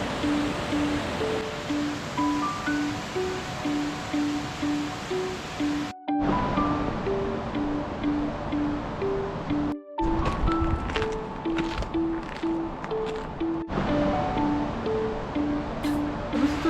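Wahkeena Falls near Portland runs with heavy flow and throws off spray, giving a loud, steady, close rushing roar that continues across several abrupt cuts, with a simple melodic music line playing over it.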